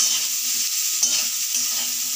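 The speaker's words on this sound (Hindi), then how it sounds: "नमक डाल दिए हैं और इसे हल्का सा भून रहे हैं" Mixed vegetables with turmeric and salt sauté in a hot pan, giving a steady close sizzle with a soft stir or two and no speech.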